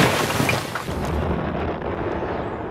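A V-1 flying bomb, the wartime doodlebug, explodes. It starts as a loud, broad, rumbling boom that slowly fades into a long, deep roar.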